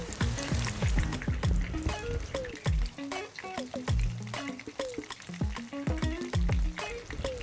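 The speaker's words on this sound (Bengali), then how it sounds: "এই বাটারফ্রাইগুলো কিন্তু আমি মিডিয়াম থেকে হাই ফ্লেমেই ভাজবো" Pieces of fish butter fry sizzle vigorously in plenty of hot vegetable oil over medium to high flame, a dense continuous crackle and bubbling with stirring clatter, close and loud throughout.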